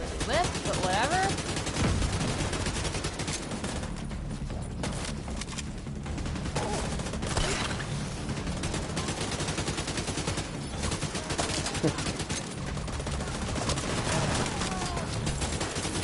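Rapid gunfire with headshot hits rattles through a Division 2 firefight, dense bursts of shots layered continuously over the whole stretch, with voices chatting underneath.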